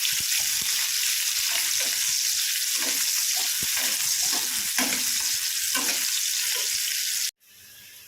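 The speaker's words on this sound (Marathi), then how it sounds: "तर आता मी 4-5 मिरच्या कट केलेल्या आहे, तर त्या घालून घेऊया।" Cut green chillies sizzle loudly in hot oil with garlic, a steady dense frying hiss with occasional stirring clatters, cutting off abruptly near the end.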